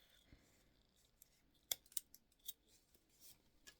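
Scissors snip the end of a zipper during a wristlet sewing project: a few sharp, quiet cuts close by, in an otherwise hushed room.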